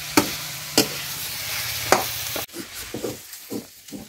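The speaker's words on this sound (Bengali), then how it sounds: "এতিয়া মাংসটো ভাজু" Chicken meat frying in a pan, a few sharp utensil knocks over a low sizzle, then a muffled stretch of intermittent scraping and stirring thumps, close and moderately loud.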